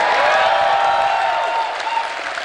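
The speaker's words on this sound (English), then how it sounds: "It makes all of us feel wonderful when we hear the applause like that." An audience claps steadily at a convention closing ceremony, a dense wash of applause from a large crowd that slowly tapers.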